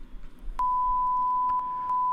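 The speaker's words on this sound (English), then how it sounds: "It's a very unique BBC beep." A BBC technical test card beep holds as a single steady, pure tone for about one and a half seconds, with faint clicks beneath it.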